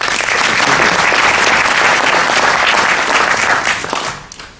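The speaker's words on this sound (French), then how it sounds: "je vous demande de l'applaudir" A congress audience applauds Marc Maury at the VINORA 2020 volcanic wines fair: dense, steady clapping fills the room at full strength, then thins and fades out in the final half second.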